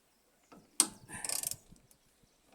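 A wrench clicks and grinds while turning a ball joint bolt on a Fiat Palio, a close metallic burst with ratcheting rattles that fades out, followed by another sharp click at the end.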